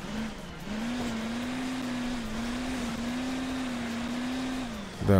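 Car engine from the mobile game Hill Climb Racing 2, droning at a steady pitch with rumbling thumps as the vehicle bounces over bumpy terrain, loud and continuous for about five seconds.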